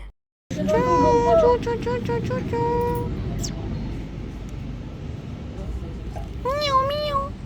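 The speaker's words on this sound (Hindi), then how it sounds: "यहाँ पर बिल्ली, पता नहीं क्या बिल्ली जो है ना ये बहुत ज़्यादा फ्री हो चुकी है मुझसे" A cat meows several times close by, a run of rising and falling cries early on and another pair near the end, with steady background noise and some talk in between.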